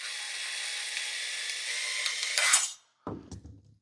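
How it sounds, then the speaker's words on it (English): A drill-driven cutting tool bought from Temu slices through sheet material, a steady close grinding rasp for about two and a half seconds that cuts off abruptly, followed by a brief lower clatter. "definitely have your drill set to the slow speed setting. It goes way too fast."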